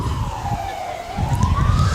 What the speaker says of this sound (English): And the sirens are plenty